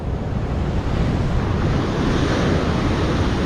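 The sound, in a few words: ocean waves at Seruni beach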